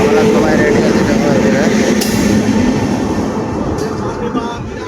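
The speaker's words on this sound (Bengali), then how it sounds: "এই দেখো ট্রেন চলে এসেছে, ট্রেনে যাবো" Train pulling into a station at night before a trek: a loud, steady rumble of rail cars running close by, with faint voices beneath.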